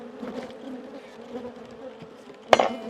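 Honeybees drone in a steady, close buzz around an open hive, with a sharp clack near the end.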